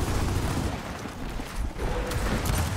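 Rapid gunfire from a competitive 5v5 multiplayer shooter wager match, dense bursts of shots and booms filling the whole stretch at steady loudness, with no clear voices over it.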